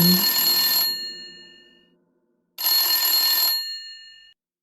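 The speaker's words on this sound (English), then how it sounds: "his thoughts were quickly interrupted by the ringing of a phone" A wall-mounted telephone rings in two long electronic bell bursts separated by a silent pause, loud and close, with nothing else heard.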